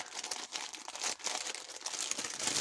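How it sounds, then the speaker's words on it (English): Crafting scissors or blade cutting a piece of cut and dry foam, a continuous close crinkly, scratchy rasp with small uneven pulses throughout. "I'll be better cutting a new piece of my cut and dry foam"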